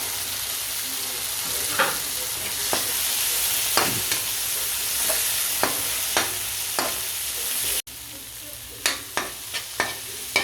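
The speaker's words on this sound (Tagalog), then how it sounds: "Mukhang okay na yung ginigisa." Ground beef and tomatoes sautéing in a pan for a budget Filipino ulam, with a steady sizzle and spatula scrapes and stirs every second or so, close and fairly loud, no talking.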